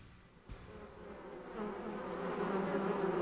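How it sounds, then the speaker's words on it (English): Honeybees buzz thickly around feeders outdoors, the drone building from fairly quiet to a dense, loud swarm hum after a brief knock at the start. "As the bees crowd around, they sense with their antennae the scout's movements."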